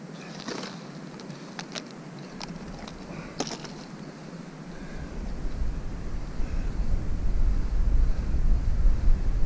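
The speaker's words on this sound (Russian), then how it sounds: "Короче, поднялся сильный ветер, не усидеть, блин." Strong wind blows across Lake Yanisyarvi during winter fishing, rising into a loud, blustery roar against the microphone after a few faint clicks at the start.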